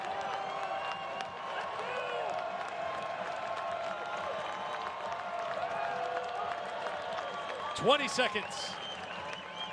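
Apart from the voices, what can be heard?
lacrosse crowd cheering and applauding in Frisco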